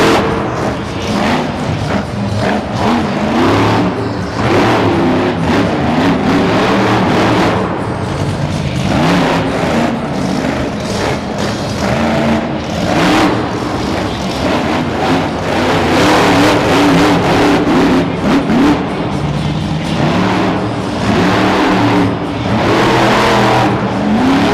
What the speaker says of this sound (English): Whipping into a donut of his own, a nice donut